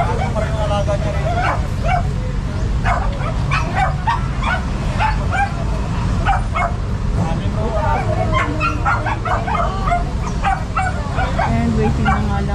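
Several dogs bark, yip and whimper continuously during a street clearing operation in the Philippines, sharp and close, over a busy hubbub of people talking and a low rumble.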